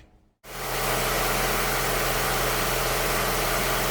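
A car's engine starts up and settles into a loud, steady idle with the air conditioning blowing on high, a dense continuous roar and hum close by after a brief quiet moment at the start.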